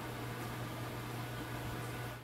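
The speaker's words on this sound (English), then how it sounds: "The microwave should be just about done." A microwave oven running in a home kitchen while wings and soup are reheated, a steady low hum with an even fan-like whir that is constant and unbroken, nearby and alone.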